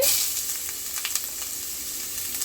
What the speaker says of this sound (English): So I got some oil in my pan. I'm going to throw in some onion.